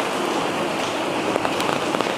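Heavy rain pours steadily in a dense, close hiss, with a few louder drops spattering near the end.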